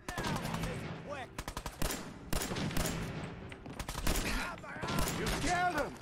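Rapid automatic gunfire from the video game Fallout 4 crackles in bursts, sharp repeated shots with brief gaps, mixed with voices in the game.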